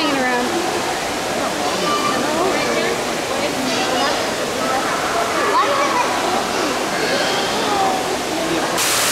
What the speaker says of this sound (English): Some fun waterfalls here in the tropics.